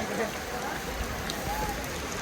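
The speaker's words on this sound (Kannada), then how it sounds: "ಫುಲ್ಲು ಮಳೆ ಗಾಯ್ಸ್" Rain pours down at Kottiyoor temple in Kerala, India, in a dense, even hiss across the whole stretch, a steady downpour without pauses.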